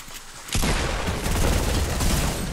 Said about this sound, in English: let's use this dynamite now